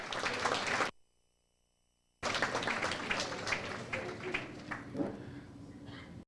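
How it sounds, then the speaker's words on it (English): Audience applause at a Florida chapter launch event: dense clapping and cheering, broken by a brief dropout near the start, then continuing steadily with voices mixed in. "let's give her a round of applause"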